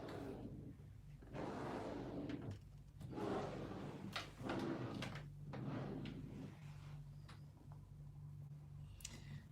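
Drawers sliding open and shut several times in a row at a nail-art workspace, scraping slides and dull bumps nearby, with a few sharp clicks at the end and no talk.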